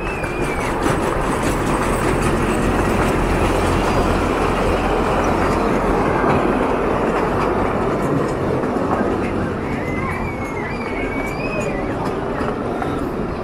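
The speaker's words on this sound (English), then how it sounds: "Here comes the train that goes around the park." A park train at a zoo rumbles past steadily and loudly, wheels clattering on the rails, with faint squeals rising over the continuous roar.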